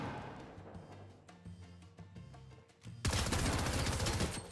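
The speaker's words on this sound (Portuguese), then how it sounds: "Tô ouvindo tiro nessa direção" Rapid gunfire crackles in a shooter video game, with bursts from a fast-firing SMG building into a dense, loud stretch of continuous shots with no voices over it.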